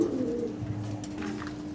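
Pigeons of an uncommon breed cooing softly in low, rolling throaty calls, close by in a quiet indoor setting, with faint chirps in the background and no talk.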